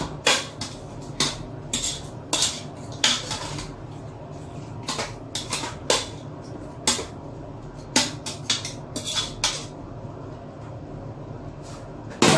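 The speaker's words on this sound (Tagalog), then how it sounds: "Tsaka, haluin natin." Metal utensil scraping and knocking in a pan while pancit bisaya noodles with liver and pepper are stirred, giving sharp irregular clinks and scrapes over a low steady background, with no talk.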